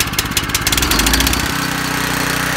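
A rented garden tiller's small engine runs loud and close, revving unevenly at first, then settling into a steady, throbbing idle.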